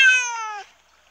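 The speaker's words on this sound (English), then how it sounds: "you tap him once and he meows" A cartoon cat in the Gorillaz app gives one short, clear meow after a tap, bright and close, then trails off into silence.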